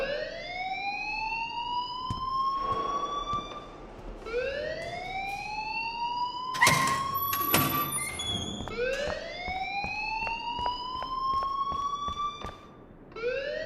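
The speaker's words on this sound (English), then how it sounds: "please turn off that alarm since that's your job" Wailing school alarm in the video game Life is Strange, a loud rising siren that repeats in long sweeping cycles, with a burst of clattering noise partway through.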